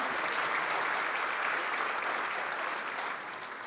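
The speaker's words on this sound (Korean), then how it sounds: "최고위원은 박수 한번 서로 보내주시겠습니까?" Steady, dense applause from a crowd of party members at a Gyeonggi provincial party convention, sustained evenly for several seconds before easing slightly at the end.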